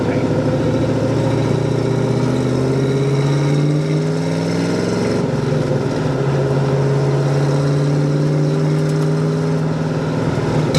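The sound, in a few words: 1966 Chevrolet Nova engine during test drive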